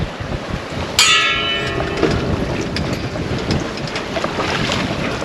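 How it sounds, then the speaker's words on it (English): Metal sailboat hardware strikes the steering wheel on a sunny, windy sail on Lake Huron, one sharp ringing clang that decays slowly under steady wind and rushing water. "That wasn't a gong, that was my hardware hitting my steering wheel."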